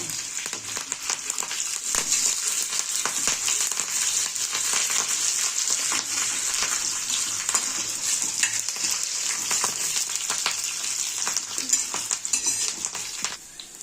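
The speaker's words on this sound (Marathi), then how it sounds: "आपला लसण छानसा परतत आलेला आहे" Garlic and curry leaves fry on a tava with a constant loud, bright sizzle, broken by frequent clicks and scrapes of a utensil stirring against the pan, with no talk.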